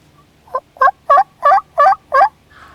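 A wild turkey gobbles during a hunt, six loud rapid bursts in a tight rhythmic series, fairly close and clear against a quiet outdoor background.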